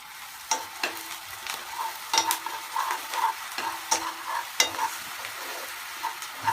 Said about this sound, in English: And you add your garlic as well. Okay, so you stir it.